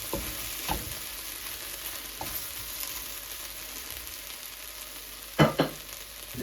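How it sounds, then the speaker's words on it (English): Okra fries in a pan with a soft, steady sizzle, broken by occasional gentle scrapes of a stirring utensil, including a sharper pair of clatters near the end. "So we gently stir."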